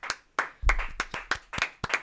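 Rhythmic clapping from an audience at a salsa event, steady evenly spaced claps close by, sounding like a few people clapping in time rather than a large ovation.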